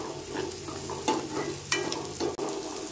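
Onions softening in a pan for potato and pea curry, a steady low frying hiss under stirring, with a few sharper scraping clicks from the spoon against the pan; no voices.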